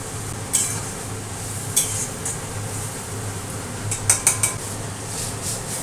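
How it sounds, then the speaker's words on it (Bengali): Masala being stir-fried in a pan, a steady frying hiss under a few sharp metallic scrapes and clinks of a spatula against the pan, close and fairly loud with no talking. "তো এবার মশলাটা কষবে"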